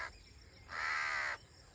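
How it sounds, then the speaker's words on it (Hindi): A crow caws close by in a village in Pakistan, one drawn-out harsh call standing out clearly against quiet background hiss, with no voices. "कौवा हमारी बातें सुन रहे हैं।"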